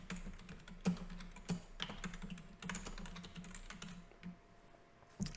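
Keys tapped on a computer keyboard while a program name is entered, an irregular run of light clicks with a few louder strikes, close and fairly quiet, no voices.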